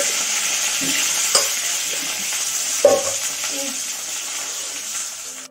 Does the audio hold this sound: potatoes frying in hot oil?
yes